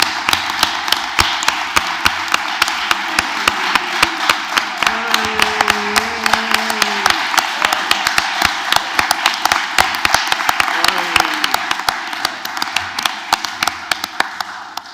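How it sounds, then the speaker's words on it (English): Attendees at a local area forum meeting in Chiswick give a final round of applause, a moderate group clapping steadily for the whole stretch, with a low hum and faint voices beneath the claps. "we can give a final round of applause for the fantastic service that we've had"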